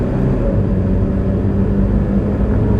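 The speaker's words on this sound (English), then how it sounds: "see if I can give her some gas," A car engine drones steadily on a 50-mile-an-hour road, a continuous low rumble with no distinct revving peaks, loud and close throughout with no talking.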